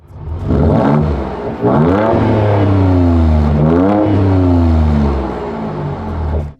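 Loud, deep exhaust roar from a Ford Ranger Raptor pickup in sport exhaust mode, revved hard three times in succession with rising and falling pitch, close by and with no talking.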